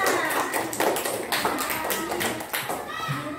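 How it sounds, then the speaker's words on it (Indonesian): Children in a classroom clap for a classmate, a scattered burst of applause with quick, uneven hand claps that fades out after a few seconds, with some chatter underneath. "kasih aplaus dulu sama Ira"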